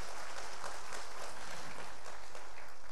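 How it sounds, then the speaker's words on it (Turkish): Audience applause at an evening folk music show, dense steady clapping from a crowd lasting the full few seconds, loud and continuous with no voices over it. "Bir güçlü alkış gelsin"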